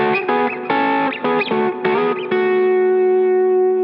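Electric guitar double stops played through distortion and chorus effects: a quick run of paired notes in short bursts, then a final two-note chord that sustains and rings out, loud and alone.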